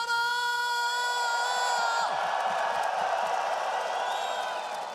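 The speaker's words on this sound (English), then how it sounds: "You can hear the crowd behind me." A large esports arena crowd at PGL Astana roars and cheers steadily throughout, a dense wall of voices under sustained tones from the venue's music or stage sound.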